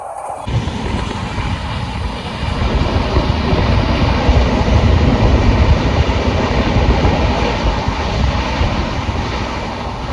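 A train rumbles at a railway platform at a station on the way to Jagannath Puri, a loud, steady low roar that swells and holds throughout with no talk.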